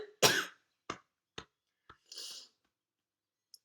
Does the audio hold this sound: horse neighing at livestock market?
no